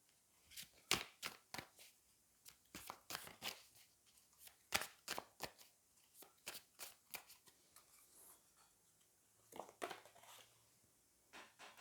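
Tarot cards being shuffled: a steady run of crisp riffling and slapping bursts, close and fairly quiet, with brief pauses between flurries and no talking.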